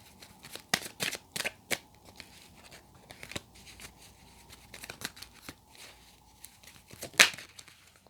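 Tarot cards are shuffled in quick papery riffling bursts, then scattered flicks and slides of cards with a louder snap near the end, close up and fairly quiet.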